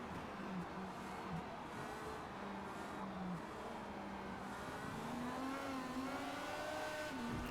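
IndyCar race car engines drone and whine in a video game, with tires spinning and squealing faintly under steady mechanical noise.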